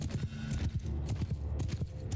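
Cavalry and horse archers gallop across a battlefield in Mount & Blade II: Bannerlord, a dense rapid clip-clop of many hooves, low and rumbling at moderate distance, continuous throughout.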